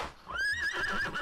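A horse in the video game Disney Infinity 3.0 gives a single clear neigh, a rising then wavering whinny heard up close and alone.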